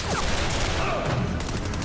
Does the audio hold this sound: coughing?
no